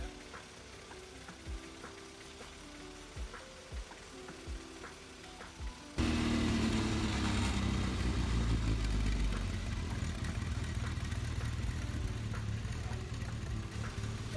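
A Mini engine runs steadily while its fuel mixture is tuned on the needle, with a sniffer in the exhaust; it starts quiet with rhythmic ticks, then jumps to a loud, sustained roar halfway through.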